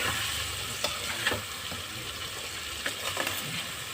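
Spices, green chilli and turmeric stir-fry in oil for a potato and taro curry, a continuous close sizzle broken by light taps and scrapes of the stirring spoon.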